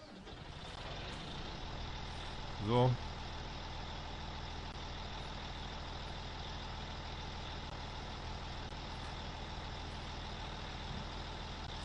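A truck-like vehicle in the Farming Simulator 19 farming game arrives with a steady engine drone throughout and a short hiss like an air brake near the start, with no talk over it.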